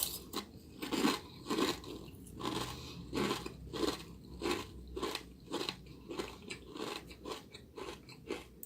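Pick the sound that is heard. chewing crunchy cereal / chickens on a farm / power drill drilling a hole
chewing crunchy cereal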